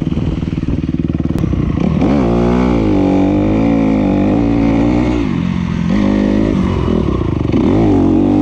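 Dirt bike, a CR125 or GAS GAS 250, revving hard on a steep vertical hill climb, loud and close, with the engine pitch rising and falling through repeated throttle blips and sustained revs, no voices.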